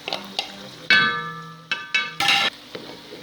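Onion and garlic sauté in a pan with short bursts of sizzling and metallic clinks of a spoon against the pot, separated by brief quiet gaps, all close and alone.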